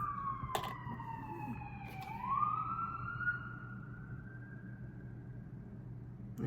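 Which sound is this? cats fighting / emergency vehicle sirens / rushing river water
emergency vehicle sirens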